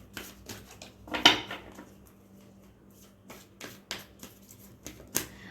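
Cards drawn from an oracle deck: sparse, sharp clicks and light papery taps at irregular intervals, close and fairly quiet, with no talking.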